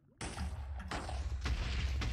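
Explosions go off in the video game Minecraft: a sudden heavy boom followed by further booming bursts at about one-second intervals, with the explosive roar filling the whole stretch.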